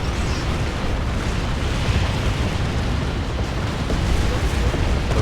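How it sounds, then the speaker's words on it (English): Tank buster barrage explosions from Imperial Guard versus Orks fighting in Dawn of War 2 make a dense, continuous roar of overlapping blasts and rumbling booms, loud and sustained throughout. "Tank buster barrages going in."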